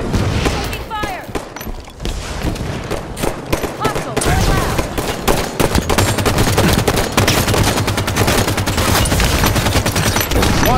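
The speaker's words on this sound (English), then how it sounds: "Taking fire!" Rapid automatic gunfire and bursts of shots in Halo 5 ranked Slayer multiplayer, loud and dense throughout, with occasional booms and game character callouts mixed in.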